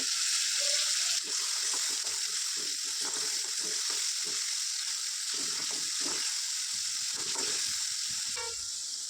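Moong dal curry ingredients frying in a pan for a North Karnataka style moong dal and dill leaf palya: a steady, loud sizzle runs throughout, with intermittent lower stirring scrapes and clinks and no talking.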